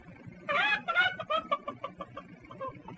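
A man in a 1938 comedy imitates a goose call that comes out as a run of short, chicken-like clucks, a few louder honks followed by fading, rhythmic clucking.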